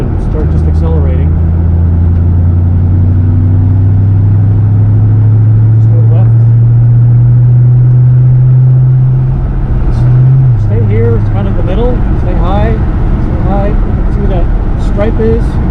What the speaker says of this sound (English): just go all the way onto that curbing, and then look up and start just accelerating